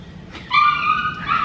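A dog gives a sustained whining yip, a near, loud drawn-out cry starting about a third of the way in and holding to the end, with a brief break before a second push.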